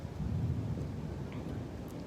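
A low rumble of thunder rolls through a storm, a deep continuous growl that peaks early and slowly fades, muffled and steady with faint rain or wind beneath.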